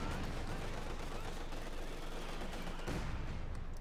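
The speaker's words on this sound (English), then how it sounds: "Mortar fire. Hitting the hay mortar again." Mortar fire in Company of Heroes 2, with dense overlapping battle blasts and gunfire rattling steadily throughout, faint and continuous, with a slightly sharper burst near the end.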